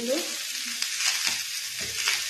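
Spices with cumin and coriander powder frying in a pan as they are stirred, a close steady sizzle broken by scraping stir strokes and short bursts of crackle.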